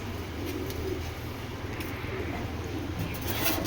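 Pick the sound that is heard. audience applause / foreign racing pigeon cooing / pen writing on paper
foreign racing pigeon cooing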